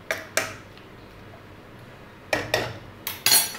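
Metal lid set down over a pot of mango chunda in a home kitchen, several light clinks and clatters in two clusters, near and moderately loud, with no talking.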